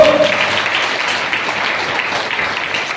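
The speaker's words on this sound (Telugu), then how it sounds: "గట్టిగా పట్టండి చప్పట్లు" Church congregation clapping together during a pastor's sermon, a steady broad wash of applause that stays loud and even throughout without a clear break.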